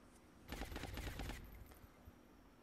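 Burst of automatic gunfire in the XCOM turn-based strategy game against a Vulcan mechtoid, a dense rapid volley of shots lasting about a second, followed by a couple of fainter pops over a low background hum.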